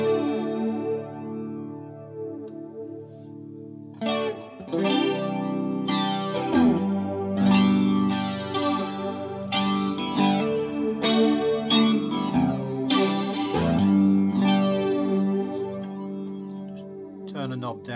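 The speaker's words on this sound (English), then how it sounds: "Back to the clean sound. Put the flanger on." Fender Telecaster made in Japan with a Bigsby tremolo, played clean through a flanger pedal: strummed chords and picked notes with a sweeping, whooshing comb-filter swirl, close and steady throughout.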